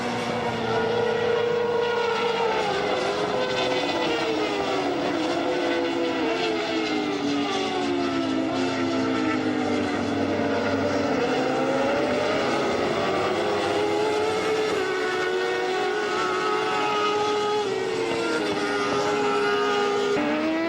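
Castrol Suzuki and Bolliger Kawasaki endurance racing motorcycles at Vallelunga, engines screaming loud and continuous as they pass, with pitch sweeping up and down through gear changes and several bikes layered together.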